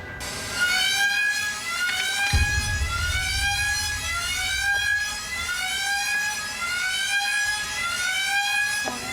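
Electronic alarm siren at a game show, a steady wailing tone with repeating rising sweeps, loud and continuous, with a thump of movement partway through.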